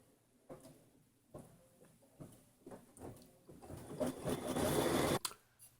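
A sewing machine runs a tack-down stitch through a purse, starting in short separate bursts and building to a loud continuous whir near the end before stopping abruptly.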